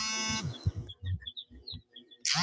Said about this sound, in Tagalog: Unsay nag-alarm diha?